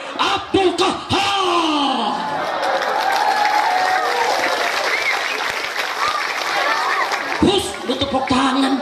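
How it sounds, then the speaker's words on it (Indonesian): A crowd at a religious lecture breaks into loud applause with yells and cheers mixed in, swelling for several seconds; a voice speaks over the start and end. "Tepuk tangan."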